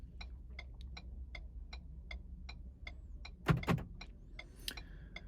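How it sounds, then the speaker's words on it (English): Ford smart key programming: a steady string of light ticks keeps a regular beat, then the car's door locks cycle with a couple of louder mechanical clunks and a brief whirr near the end. "you could hear the lock cycling"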